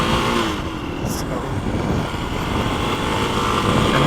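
Kawasaki KLX300 dirt bike engine with a fault, idling unevenly and running rough, a continuous close mechanical drone with slight wavering and a faint rise at the end.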